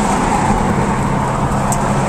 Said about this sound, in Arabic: المكنسة بتكنس في الشارع